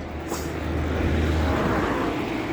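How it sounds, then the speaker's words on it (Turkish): A car approaching from behind on an uphill road, its engine a steady low rumble with broadband road noise that swells slightly and holds continuous throughout, heard close with no talk. "Arkamdan araba Sesi var çünkü."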